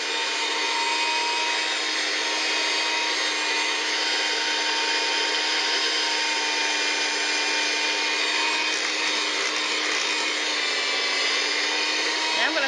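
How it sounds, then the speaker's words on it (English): An electric mixer beats almond pound cake batter made from a Betty Crocker cake mix. Its motor gives a steady, close, high-pitched whir that runs continuously at an even level from start to finish. "begin to mix all of those ingredients together"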